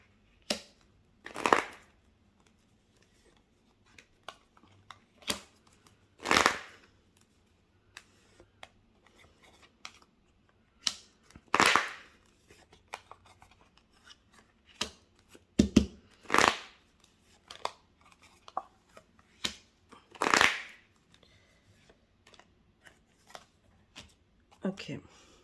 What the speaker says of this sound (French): Je vais poser toutes les cartes.